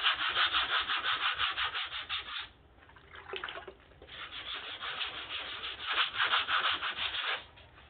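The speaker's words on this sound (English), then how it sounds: "And I'm going to go ahead and just start sanding." Hand sanding of Bondo body filler over a dented car door: steady, close rhythmic scratchy strokes that pause briefly in the middle, then resume at the same even pace.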